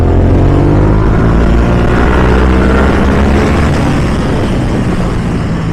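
A Yamaha R7 sport motorcycle on the move gives a loud, steady engine roar mixed with rushing wind, heard close and continuous with no talk.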